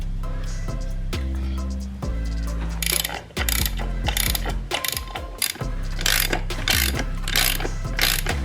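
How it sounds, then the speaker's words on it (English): A ratchet turns a 17 mm deep socket on the transmission pivot ball of a Nissan 240SX, starting with a few slow clicks and then settling into loud, rapid, close ratcheting bursts in a steady rhythm. "we're gonna take a 17 mil deep socket"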